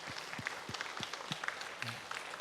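Members of a Korean church congregation give a round of applause during a Sunday service, a quiet, scattered patter of claps heard from a distance in a reverberant hall.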